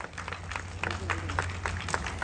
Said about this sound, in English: A big round of applause emanating from the audience will only add to the warmth